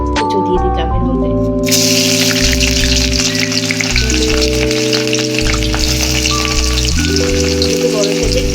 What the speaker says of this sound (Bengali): তেলটা গরম হয়ে গেছে, এর মধ্যে আমি বড় মাপের সাইজে 2টো পেঁয়াজ কুচো দিয়ে দিলাম এর মধ্যে।